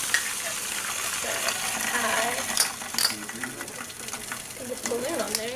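Water boiling in a container during an ideal gas law chemistry demonstration gives a steady, close bubbling hiss with crackling pops, with a voice briefly heard over it.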